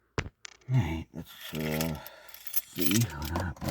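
Metal car keys for a 2004 Mercedes C230 W203 jangle in brief bursts, close up, with a few sharp clicks and someone talking between and over the rattles.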